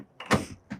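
A bathroom door on a 2024 Lance 1685 travel trailer swinging shut: a brief rustle, then a firm plastic-and-latch thud, followed by a softer second knock, close and quiet with no talking.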